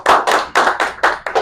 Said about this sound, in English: And please clap for yourselves in this regard